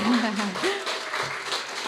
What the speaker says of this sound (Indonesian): Boleh tepuk tangannya dulu teman-teman